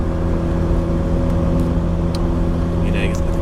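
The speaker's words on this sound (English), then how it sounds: "I'm just a fourth gear here right now, just putting up this hill" Small car engine pulling steadily uphill in fourth gear, a constant droning hum with stable tones throughout, loud and close, with faint clicks on top.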